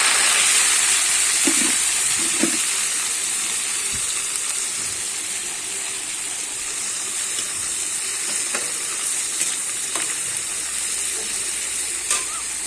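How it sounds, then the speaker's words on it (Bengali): Freshly picked leafy greens sprinkled with poppy seeds fry in a pan, giving a steady, close sizzle and hiss with occasional stirring clicks throughout, no voices. "শাকটা ভেজে নেব।"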